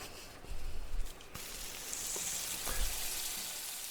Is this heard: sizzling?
yes